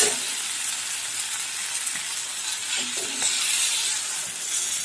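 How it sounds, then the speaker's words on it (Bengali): Water goes into spices frying in hot oil, raising a continuous bright sizzle and hiss that swells slightly toward the end, with faint stirring knocks underneath. "এবার এতে জল দেবো আমি।"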